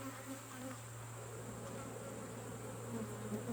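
Honey bees buzz continuously during a beehive inspection, a dense steady hum of many insects at close range with a few louder passes, and no voices.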